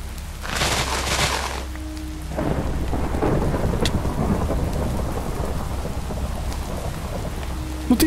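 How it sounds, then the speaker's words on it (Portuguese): Acid rain pours steadily in a zombie apocalypse video game while rolling thunder booms and crackles near the start, the downpour hissing loudly throughout. "Eu acho que essa chuva é ácida"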